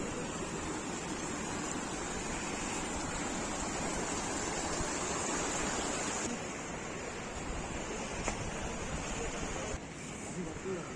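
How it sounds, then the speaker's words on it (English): Water rushing steadily in a stream near a small old mountain temple on a winter Kedarnath trip, a continuous close roar with a faint voice beneath it. "Water is flowing here."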